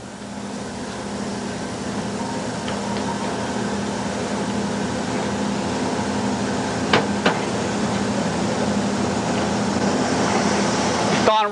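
Boring machine cutting the two bores of a cast Chop-Rite grinder tub, a steady close mechanical hum and grinding drone throughout with a couple of sharp metallic ticks near the end.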